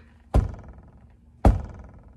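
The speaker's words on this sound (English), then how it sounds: "I'm over here trying to figure out that squeaking and thumping noise." Two separate hollow thumps from inside a car door panel, about a second apart, each with a short resonant rattle of reverberation, close and otherwise quiet.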